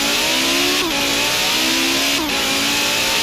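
A car engine in the Forza racing game revs hard twice, pitch sweeping up and dropping back with a rasping, turbo-tinged exhaust note, loud and close, no voices.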